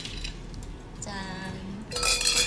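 Glasses clink together in a toast at an office gathering, a bright clatter near the end that follows a quieter stretch with faint ringing tones.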